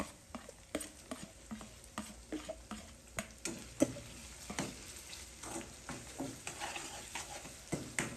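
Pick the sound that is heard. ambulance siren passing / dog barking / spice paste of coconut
spice paste of coconut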